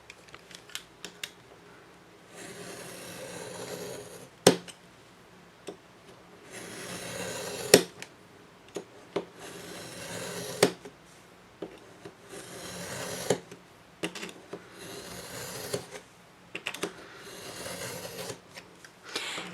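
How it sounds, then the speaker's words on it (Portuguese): A craft knife drawn repeatedly along a ruler through thick paper for bookbinding, giving a series of soft rasping strokes a few seconds apart, each a steady scratchy drag, heard close and alone without talk. "O estilete ele vai passar várias vezes e vai cortando a fibra de pouquinho em pouquinho"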